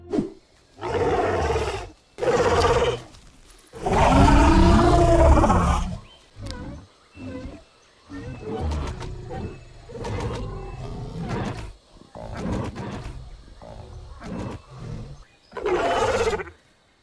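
Loud, deep dinosaur roars and growls from the video game The Isle, a Diabloceratops, in several bursts separated by short pauses, with layered bellowing calls that swell and fade.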